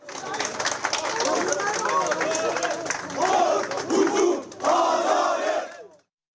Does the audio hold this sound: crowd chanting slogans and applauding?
yes